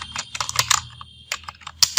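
Fingers tap on a computer keyboard in quick irregular bursts of close, crisp key clicks, pausing briefly between clusters.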